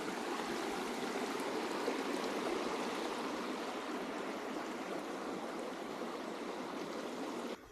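River water rushes steadily over a paved road crossing, a constant, dense, moderately quiet wash of flowing water with no pauses and no voices.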